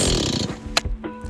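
A chainsaw engine sputters and coughs briefly after a starter cord pull, rough bursts fading into uneven pops.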